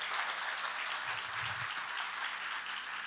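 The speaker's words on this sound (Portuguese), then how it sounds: "Salva de palmas" Audience applause at an architecture conference session in Brazil, a steady wash of clapping from the room, even in level with a brief low thump partway through.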